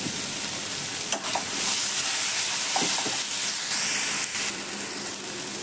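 Chopped tomatoes dropped into onions frying in a pan, a bright continuous sizzle with a few clattering stirs and sharp spatters, close and steady without speech.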